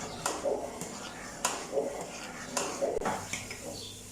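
A spoon stirs kheer with burfi mixed in, clinking and scraping against a pot in several sharp, evenly spaced taps with soft swishing between them, close by and fairly quiet.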